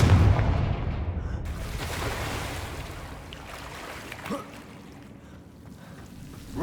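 Confringo fire blast spell exploding in the Hogwarts Legacy video game: a loud booming burst at the start, then a long rumbling decay with a smaller pop midway, no talking.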